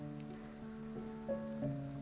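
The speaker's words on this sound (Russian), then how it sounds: "Так аппетитно шипит масло." Breaded chicken fillet frying in oil gives a soft, steady crackling sizzle, faint beneath a constant droning hum, with no voices.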